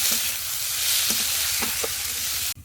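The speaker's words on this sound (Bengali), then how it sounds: "এবার এর মধ্যে দিয়ে দেবো স্বাদ মতো লবণ আর পরিমাণ মতো হলুদ, ব্যাস দিয়ে একটু নেড়ে চেড়ে ভালো করে ভেজে নেব" Spices with salt and turmeric fry in a pan while being stirred, giving a close, steady sizzle with a few light utensil scrapes before the sound cuts off abruptly.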